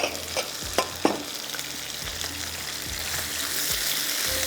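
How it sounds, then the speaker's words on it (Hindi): Cornflour-coated chicken seasoned with black pepper and salt fries in oil in a pan, giving a steady close sizzle with a few clinks and stirring knocks early on, no voices. "काली मिर्च, नमक और इसमें कॉर्नफ्लोर, थोड़ा सा ऑयल डाल के इसको फ्राई करके रखती हूँ"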